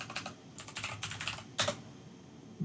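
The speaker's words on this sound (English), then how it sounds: "and typing in R" Keys on a computer keyboard clatter in quick short bursts at a Windows command prompt, a few separate presses and then a louder final tap, quiet and close without speech.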